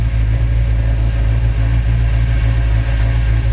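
A car with an all-stainless exhaust and a Flowmaster Series 40 muffler holds a loud, steady, deep engine drone with a slight rhythmic throb, close and unbroken, no voices.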